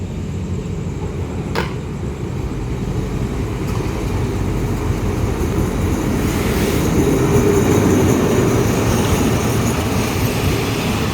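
A diesel ordinary passenger train on Thailand's eastern line passes close by, its heavy rumble and rail noise growing steadily louder over the clip, with no voices.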